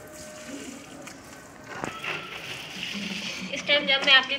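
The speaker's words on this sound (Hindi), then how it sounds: "इस टाइम जब मैं अपने प्लांट्स को पानी देती हूँ" Water splashing onto potted plants in a rooftop garden during watering, a continuous sloshing flow that grows louder and more gushing toward the end.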